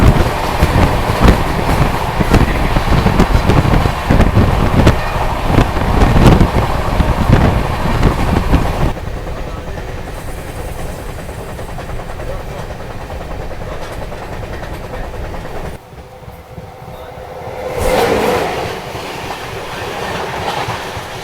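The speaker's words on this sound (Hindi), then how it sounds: "तो ये थी अंडमान एक्सप्रेस" The Andaman Express, train 16031, a passenger train running on rails, with a steady loud rumble and clickety-clack of wheels, accompanied by wind noise, then easing to a quieter, more muffled roll partway through.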